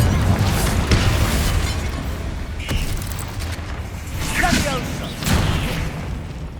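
Confringo fire-blast spells go off in the Hogwarts Legacy video game, a string of booming bursts over a dense, noisy battle mix with voices in the background.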